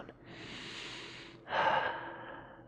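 A person exhales audibly while sinking into a yogic squat, or garland pose. Two soft, breathy sighs come close to the mic, the second one stronger, with no talking.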